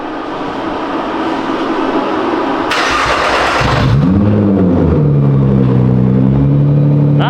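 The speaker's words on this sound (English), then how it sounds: "This is what it's gonna sound like if we were to run no exhaust, just a stock downpipe." Nissan GT-R, the last generation, running a stock downpipe with no exhaust: a loud, raw engine roar with a sharp change near the midpoint, then wavering revs that rise and fall, heard alone without talk.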